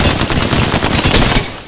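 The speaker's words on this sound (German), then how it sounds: "Die schießen auf mich?" Rapid automatic gunfire in the Apex Legends video game, a loud, dense burst of close shots fired in quick succession for under two seconds, with no talk over it.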